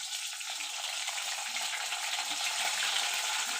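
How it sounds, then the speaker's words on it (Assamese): Onions frying in hot mustard oil in a wok, a steady close sizzle running throughout with a faint crackle, and no talking. "তেলখিনি মই গৰম হ'বলৈ দিলো আৰু এতিয়া ইয়াত দিম পিঁয়াজ।"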